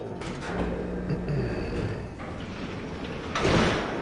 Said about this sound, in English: Oh, see, that bay door is open now.